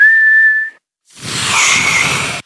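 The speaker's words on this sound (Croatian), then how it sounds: "Proizvodiš smiješan zvuk. To je zviždanje." A single sustained whistled note, clear and close, followed after a short pause by a breathy blowing rush of air.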